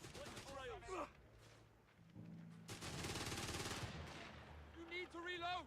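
Gunfire from the Company of Heroes 3 battle game plays as bursts of rapid shots in the middle, while someone talks over it before and after, with faint artillery-like thumps underneath.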